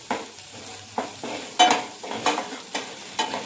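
Turmeric, coriander powder and red chili are sautéed in a pan with a coconut paste, a soft steady sizzle broken by regular scraping stirs about twice a second, close and without talking.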